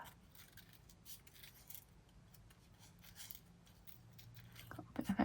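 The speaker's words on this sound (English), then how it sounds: "A rough, quick, fussy cut." Scissors make quick, rough fussy cuts into paper for junk journal collage tags, giving faint, close, irregular snips and paper rustles, with a few louder handling clicks at the end.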